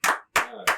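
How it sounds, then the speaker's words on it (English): Three quick bursts of hand clapping from a small group, each loud and close, with brief gaps between. "clap it up for this dude"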